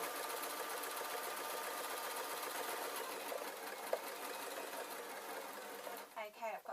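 A sewing machine stitches a suit trouser with a steady close hum that runs continuously for several seconds, then breaks off near the end as a voice comes in.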